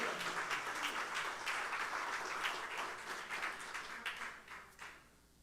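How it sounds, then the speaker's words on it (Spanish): A church congregation applauds in a soft, distant patter of many hands that holds steady, then thins out and fades near the end. "Dáselo fuerte a Él el aplauso"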